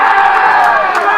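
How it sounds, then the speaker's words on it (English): Crowd at an eight ball pool championship cheering and shouting loudly and continuously, a dense roar of many voices throughout. "The crowd, of course, going absolutely mad."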